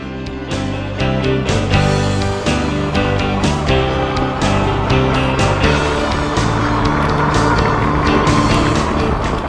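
A Wired Freedom electric bike accelerates at full throttle up to 30 mph, producing a steady rising motor whine over loud rushing wind noise and road rumble, continuous and close.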